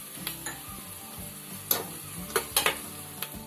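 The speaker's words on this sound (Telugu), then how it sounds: "మసాలాలు వేగినాయి, ఉల్లిపాయలు వేసుకుందాం. కరివేపాకు కూడా వేసుకుందామండి." Onions and curry leaves fry in spiced oil in a pan, giving a steady background sizzle broken by a few sharp stirring scrapes and clicks, with no talking.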